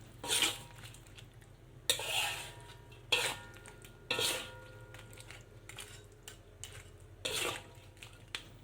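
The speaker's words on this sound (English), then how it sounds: "and stir, stir, stir" Crayfish curry stirred in a pot, a spoon scraping and clattering against the metal in several distinct bursts with short pauses between, close and fairly quiet.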